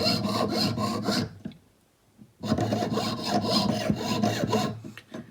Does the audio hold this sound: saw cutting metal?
yes